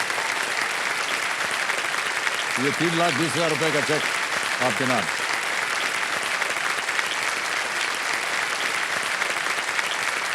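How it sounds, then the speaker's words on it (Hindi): A game show studio audience keeps up a steady, loud wall of applause while a host speaks briefly over it, the clapping running unbroken to the end. "तालियां बज जाए इनके लिए।"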